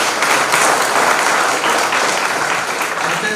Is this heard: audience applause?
yes